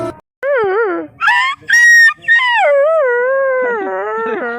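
A dog howls in long, rising and falling wails with short gaps between them, loud and close. The scene is comic and set in a village.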